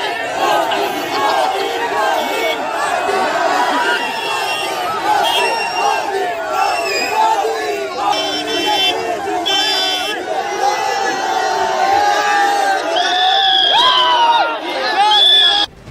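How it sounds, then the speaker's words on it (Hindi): A large political rally crowd chants slogans in unison in front of a deputy chief minister, loud and continuous with dense overlapping voices, shouts and cheering throughout. "तभी डिप्टी सीएम तेजस्वी यादव के सामने ही भीड़ ने मोदी मोदी का नारा लगाना शुरू कर दिया।"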